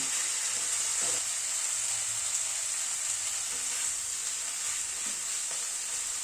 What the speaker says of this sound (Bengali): দু 4 মিনিট পালংটা একটু নাড়াচাড়া করে নিলাম।